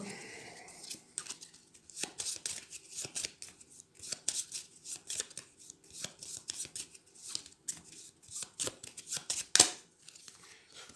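Cards for the Dinoblivion board game being dealt and handled on a table, a steady run of quick soft snaps and slides, close and quiet, with no talking over them.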